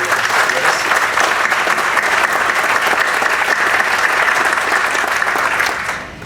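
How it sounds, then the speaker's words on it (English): Steady, dense applause from an indoor audience at a civil and environmental engineering building's grand opening, sustained evenly for several seconds before fading at the end. "I do want to give him a big round of applause"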